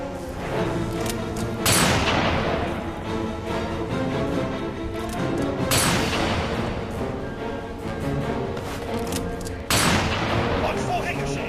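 Gunfire in the Captain America Super Soldier video game, with bursts of rapid shots and sharp blasts that recur about every four seconds over a continuous background of shooting.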